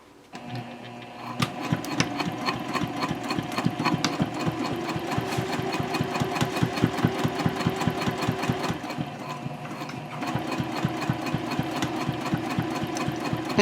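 A sewing machine top stitches a handbag tote at a 3.0 stitch length, running in a steady, rapid, even rhythm close by for most of the stretch, with a brief pause near the end before it starts up again.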